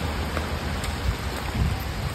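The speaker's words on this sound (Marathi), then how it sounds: "आता चालतो मी रस्त्यामध्ये एक पाऊस आला" Steady rain falls on a road while someone walks through it outdoors, making a dense, even hiss with low rumbling swells and no voices.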